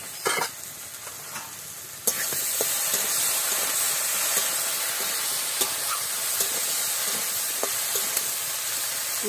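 Diced potatoes sizzle steadily in hot oil in a pan for a village-style vine-leaf curry, a loud continuous frying hiss with occasional stirring scrapes and clicks, no voices.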